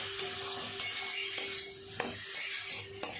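Fried potatoes sautéed with spice masala for a sharpunti fish curry, a soft background sizzle broken by sharp, regular clinks and scrapes of a spatula against the pan.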